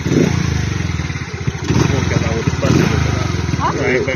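An old motorcycle engine starts and runs with a loud, rough, fast chugging and clatter that stays close and steady, while people talk over it.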